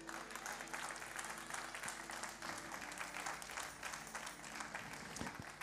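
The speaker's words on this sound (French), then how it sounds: "Est-ce qu'on applaudit le ciel" Applause from a church congregation during a sermon, a steady wash of clapping heard faintly at a distance with no talk over it.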